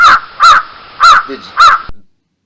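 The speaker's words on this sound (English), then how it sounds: "That's a crow." A crow caws loudly four times in an even rhythm, each call harsh and close, followed by a brief fading tail into silence.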